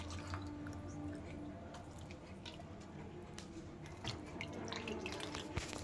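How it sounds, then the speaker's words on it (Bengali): Soaked food squeezed by hand to wring out the water, giving soft wet squishing and dripping sounds that continue steadily and close up, with no talking. "এটাকে এবার চিপে চিপে ভালো করে তুলে নেব"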